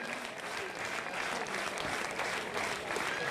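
A stadium crowd applauds steadily at a legends football match between SK Líšeň and SK Slavia Praha in Líšeň, a dense, continuous wash of clapping that stays loud throughout.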